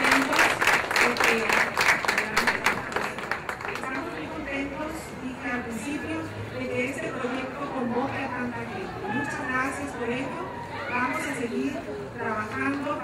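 Applause for a poet at a cultural event, sharp clapping for the first few seconds that fades into crowd chatter and talking voices.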